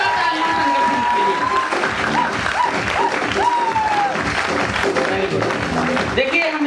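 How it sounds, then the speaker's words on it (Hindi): A seminar audience in Delhi applauds loudly and steadily, a thick wash of many hands clapping, with a speaker's voice running over it the whole time. "इतने जबरदस्त तरीके से तालियां"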